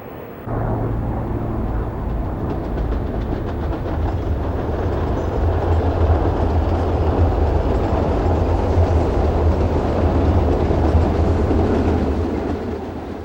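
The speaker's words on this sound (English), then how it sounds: "E60 locomotive number 605 has the Crescent train number 20 in tow as it departs Newark eastbound for New York City" An E60 electric locomotive hauling a passenger train departs Newark eastbound, a steady loud rolling rumble with rhythmic wheel clatter that holds for about thirteen seconds, with no talk.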